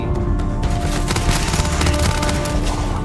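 Rapid bursts of SMG fire in the sci-fi shooter Starfield, dense and continuous across the whole stretch, loud and close with booming low end and scattered impacts.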